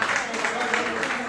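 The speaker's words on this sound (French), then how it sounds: "Est-ce qu'on peut l'applaudir très fort, s'il vous plaît?" Brief burst of audience applause at an album launch event in a hall, steady clapping filling the short moment with a voice faintly present.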